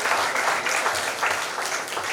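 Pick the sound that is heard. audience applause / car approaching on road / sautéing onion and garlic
audience applause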